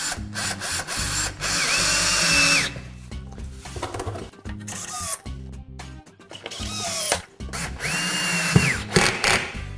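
A power drill drives screws into a storage rack rail, with repeated whining bursts of the motor separated by short pauses, close and loud.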